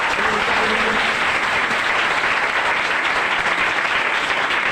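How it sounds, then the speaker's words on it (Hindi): A church congregation applauds a children's performance at a Sunday service, and the dense, loud clapping stays at full strength for the whole stretch without a break. "आप एक बार जोरदार मिलकर ताली बजा के"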